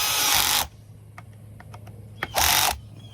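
A small power driver tightens parts on a Murray Select MS 2560 chainsaw in two loud whirring bursts, with soft ratcheting clicks in the quiet gap between them.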